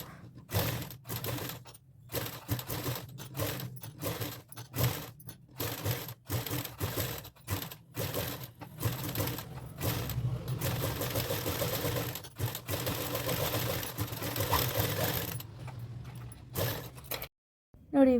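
Sewing machine stitching a beaded work blouse using a single presser foot, running in steady mechanical bursts with brief pauses between runs, close and fairly loud.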